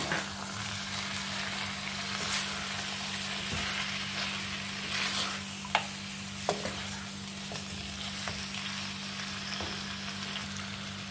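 Chicken frying in a pan for a Bengali chicken kanti as a prepared masala is added and mixed in, a continuous close sizzle over a low steady hum, with occasional clacks from the stirring spoon.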